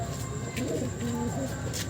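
A black-green female pigeon coos softly nearby, low rolling coos under a steady background hum, while a person talks quietly over it.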